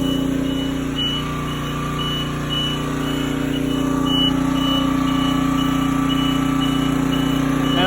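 Aerial lift bucket boom extending out laterally, a steady mechanical engine drone with intermittent high beeping tones running throughout, close and fairly loud with no talking.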